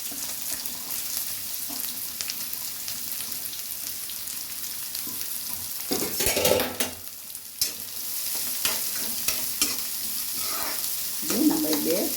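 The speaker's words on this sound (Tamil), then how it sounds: "காய்ஞ்ச உடனே அரிஞ்சு வச்ச வெங்காயத்தை போட்டுக்கிறேன்." Chopped onions sizzle steadily in hot oil in a pan, a continuous close frying hiss with occasional louder bursts of spatter and stirring scrapes.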